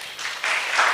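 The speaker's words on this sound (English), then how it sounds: "Yeah, maybe a clap for them." Brief burst of audience clapping for county staff standing up at a Kenyan research festival side event, a short wash of hands that swells within a second.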